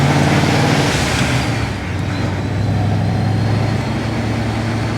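A car with a supercharged Ford 3V engine under full boost, driving on a cold day with a loud, steady engine drone and road rumble up close, easing slightly partway through.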